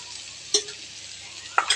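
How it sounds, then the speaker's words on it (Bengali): Fried potato and pointed gourd stirred into hot oil and frying spices, giving a couple of brief scraping stirs over a soft, steady sizzle. "আলু পটলটা আগে ভেজে রেখেছি, মশলার উপরে দিয়ে দেবো, দিয়ে নেড়ে চেড়ে নেবো"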